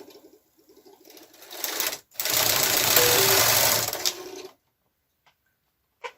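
A KR 230 knitting machine carriage is pushed across the bed in two passes, a short clatter and then a longer, loud mechanical rattle lasting about two seconds. Silence follows, with a faint click at the end.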